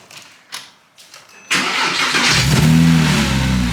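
A 2007 Porsche Cayman fitted with a GT3 throttle body and IPD intake plenum cranks briefly, catches and roars up to a loud, steady idle close by.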